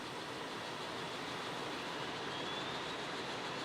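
The engines of an AH-64D Block II Apache start up in a flight simulator. A steady, even turbine rush and whine builds faintly with no distinct events.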